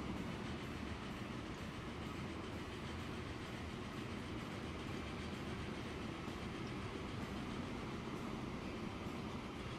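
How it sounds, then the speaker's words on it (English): A freight train carrying stone in the video game Transport Fever rolls past with a continuous rumble and steady clickety-clack of wheels on track, fairly faint and even, with no talking. "I want to ride this train."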